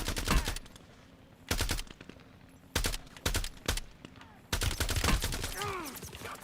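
Call of Duty Blackout weapons firing in loud automatic bursts of rapid shots, several separate volleys with short gaps between, spent casings tinkling after the last burst.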